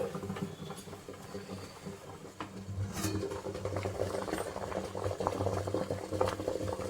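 Junnu, a cheese made from colostrum milk, cooks over a medium flame with a steady bubbling simmer and a continuous low roar from the burner, close and even throughout.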